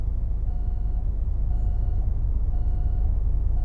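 A truck in the video game American Truck Simulator backs a trailer into place, a steady reversing beep repeating about once a second over a low, constant engine rumble.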